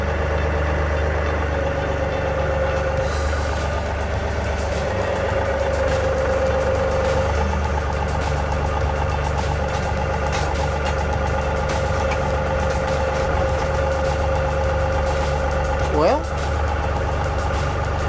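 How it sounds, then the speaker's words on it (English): A John Deere 2038R compact tractor idles steadily nearby, a low continuous engine drone for the whole stretch with someone talking over it. "we're gonna try this at just a flat out idle"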